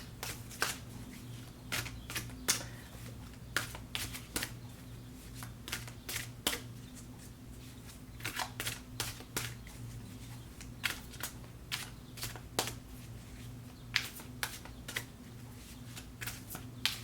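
A tarot deck is shuffled over and over, with crisp riffling snaps and clicks in irregular clusters against a low steady hum, close by and fairly quiet.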